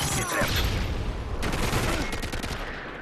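Rapid automatic gunfire from an AK-47 in Call of Duty: Modern Warfare 3 Demolition mode, a dense rattling burst over loud battle noise, fairly close.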